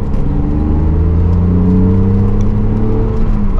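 A BMW Z3 3.0i engine revving, a loud, close mechanical drone with rising and falling pitch as the revs climb, continuous with no talk.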